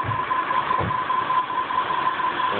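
A car engine running with a bad noise, a steady droning hum with a persistent whine and faint irregular knocking pulses, continuous and fairly loud throughout.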